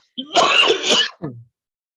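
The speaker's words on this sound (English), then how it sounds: "I'm having a dry cough" A single dry cough followed by a short rasping throat clear, close up, then silence.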